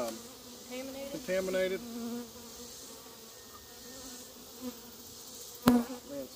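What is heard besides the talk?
honey bees buzzing around a hive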